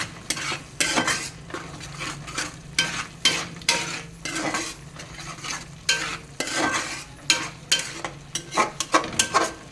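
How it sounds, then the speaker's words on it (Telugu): Chili powder is stirred into masala in a pan with quick, rhythmic scraping strokes of a metal spoon, loud and close, over a low background sizzle. "ఆ కారం పొడిని బాగా మిక్స్ చేస్తున్నాడు"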